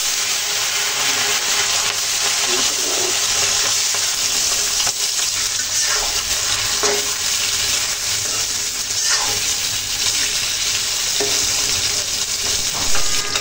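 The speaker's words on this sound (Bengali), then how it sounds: "মাছগুলো ভেজে নেওয়ার জন্য অলরেডি তেলটা গরম করে নিলাম। কতগুলো মাছ আছে, মাছগুলো হালকা করে ভেজে নেব।" Bata fish frying in hot oil in a pan, a dense continuous sizzle with occasional soft pops and spatters, close and steady, with no talk.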